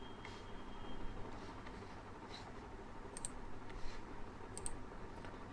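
Computer mouse clicks on a government scheme application website, a few sharp isolated clicks spaced a second or so apart over a quiet room hum.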